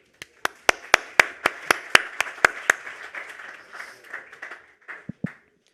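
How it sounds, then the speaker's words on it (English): Audience applause for a speaker at a formal gathering of honoured guests: a run of sharp, evenly spaced claps, then a looser, softer scatter of clapping that tapers off with a couple of final claps. "applause please for Gabriele Zinni"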